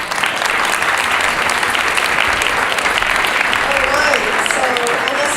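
Audience applause following a startup pitch at a tech event, a steady dense wash of clapping holding evenly throughout with faint crowd murmur underneath.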